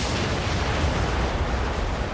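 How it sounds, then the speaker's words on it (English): Broadside of naval cannon from sailing warships at the Battle of Trafalgar, a dense continuous rumble of overlapping booms and blasts, loud and sustained throughout with no gaps or speech. "Each gun crew would be well drilled, and they could load and fire these guns in 90 seconds."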